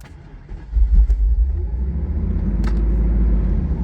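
A Mercedes R129 engine, restarted after sitting for ten years, idles in neutral after a stall with a steady deep low rumble that picks up briefly before settling into a continuous close drone.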